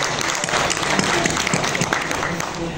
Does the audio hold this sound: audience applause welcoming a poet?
yes